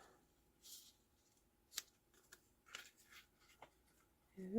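Scissors cutting paper for a stamped card, with a few short, quiet snips and rustles spaced apart at close range, then a louder bump at the very end.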